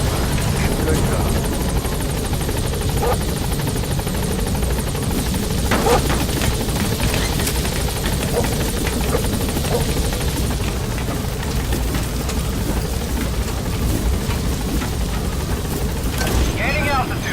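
B-Quad helicopter landing and departing in Metal Gear Solid V, a loud, steady rotor roar and engine drone filling the whole stretch, with voices heard over it.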